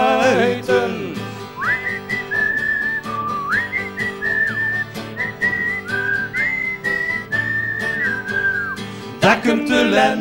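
A melodic whistled tune carries clearly over a band accompaniment at a 1994 senior citizens' carnival show, the sustained, sliding notes running in phrases for most of the stretch before the instruments take over.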